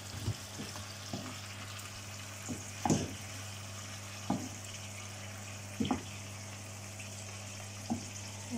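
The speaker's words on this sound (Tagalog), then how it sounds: "Sige, lagyan na natin ng tubig." Shrimp cooking in butter and garlic as water goes into the pan, a low continuous sizzle and hiss with a few scattered clinks and scrapes of a spoon, quiet and close.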